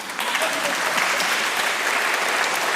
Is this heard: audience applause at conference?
yes